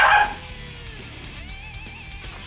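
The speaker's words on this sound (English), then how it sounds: "My dog's having a bit of a wah." A pet dog gives one loud yelp at the start, then faint whining continues under steady indoor background noise.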